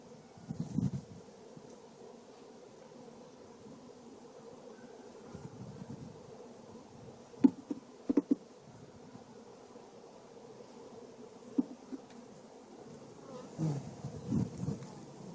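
Honey bees buzzing around hive frames in a faint, steady low drone with occasional louder passes and small clicks, and no talk.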